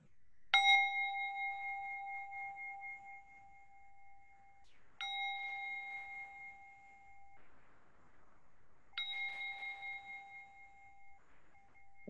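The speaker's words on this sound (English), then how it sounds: "as I ring the bell" A meditation bell is struck three times at even intervals, each strike a clear, bright ring that sustains and slowly fades before the next, heard alone in a quiet setting.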